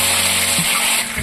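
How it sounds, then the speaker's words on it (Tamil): Whole spices such as fennel, bay leaf, star anise, stone flower and cloves fry with mint leaves in hot oil, a loud steady sizzle with a low hum beneath and a brief clink partway through. "இதெல்லாம் சேர்த்து எண்ணெயில நல்லா பொரிய விட்டுருவோம்"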